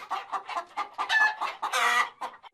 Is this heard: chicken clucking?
yes